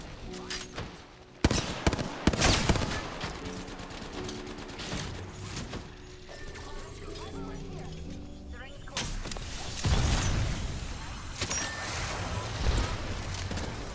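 Gunfire in the video game Apex Legends during a ranked match, with bursts of shots and mechanical clatter layered over background game noise, moderately loud and irregular.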